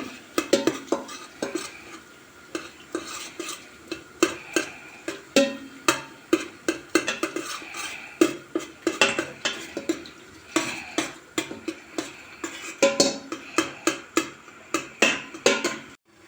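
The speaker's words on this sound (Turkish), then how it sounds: "iki kaşık salça koyacağım. Güzelce kavuracağım." Tomato paste sautéed with chickpeas in a pan, heard as a long run of rhythmic utensil scrapes and clinks against the pan over a faint low sizzle, close and steady.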